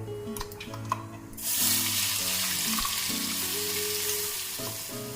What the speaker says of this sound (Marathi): मी हे मिश्रण परतून घेतलेलं आहे